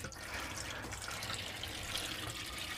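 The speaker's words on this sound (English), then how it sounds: "we'll put the pump on now, bring some water through" Water rushes and gurgles steadily through a motorhome's pipes as the pump sends it from the freshwater tank to the hot water tank, a continuous hissing flow with no voices.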